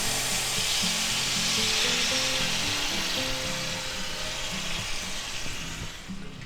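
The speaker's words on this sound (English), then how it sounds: "Okay, we just stir fry them a little bit here" Vegetables for a sweet and sour chicken stir fry hiss loudly in a hot pan. The sizzle is close, dense and steady and eases off slightly toward the end, with no talking.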